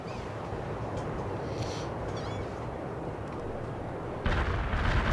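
Heavy artillery barrage in the video game World in Conflict: dense, rumbling low booms rolling together in a continuous roar, growing louder and harsher near the end, with no speech over it.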